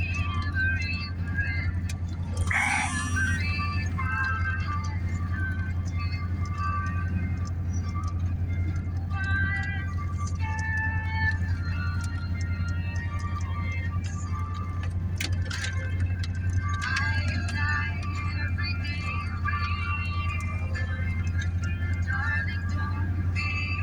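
A pickup truck grinding slowly along snowy snowmobile trails, a steady low engine drone under continuous rattling and jangling inside the cab, with brief faint speech.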